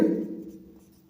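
Chalk or marker writing on a board while a math problem on equilateral triangle area is solved, a short scratchy stroke that fades out, with no talk.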